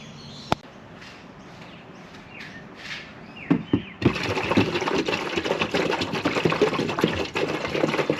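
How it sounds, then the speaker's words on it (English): Water pouring into an intercooler spray tank on a Mitsubishi Evo X, a steady loud splashing rush that starts abruptly after a few quiet seconds of small knocks and clicks. "we'll add some more water just to make sure it doesn't leak"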